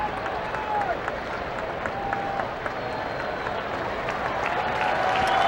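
A stadium crowd at a baseball game gives a sustained round of applause as a pitcher departs, steady clapping heard over an announcer talking.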